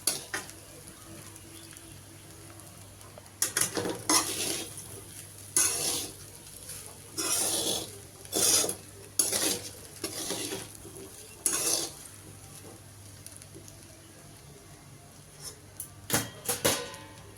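Sabudana and potato stirred together in a pan for sabudana khichdi, a series of close, scraping spoon strokes in bursts with soft sizzling between them and quiet pauses.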